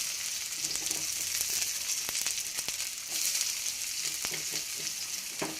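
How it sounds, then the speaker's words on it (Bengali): Cumin seeds, chopped garlic and onion frying in hot oil, a loud, continuous close-up sizzle with bright crackling pops and occasional stirring clicks throughout. "দেখো দিয়ে দিলাম জিরে ফোড়ন। এবার দিয়ে দেবো রসুন কুচি, তারপর দিয়ে দেবো কুচনো পেঁয়াজ"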